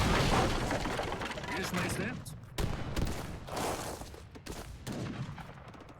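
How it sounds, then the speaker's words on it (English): Volleys of musket fire in a strategy video game as Carolean infantry exchange shots. Bursts of crackling gunfire and booms come close together, with a commentator talking over the battle. "Both of them are taking shots on each other's Caroleans."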